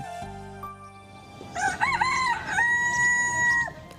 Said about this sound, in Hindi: चंद्र देवता मुर्गे का वेश धारण करके बोलने लगे